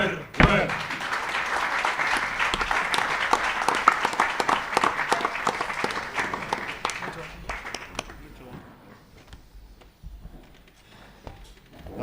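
An audience of university students and guests applauds at the end of the final debate in an impromptu debating competition, with dense clapping that holds steady and then thins out over about twelve seconds.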